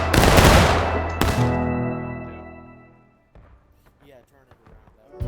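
A Civil War reenactment cannon fires at Fox's Gap on South Mountain with two loud, close booms about a second apart. A long ringing, rumbling decay follows, then people talk quietly.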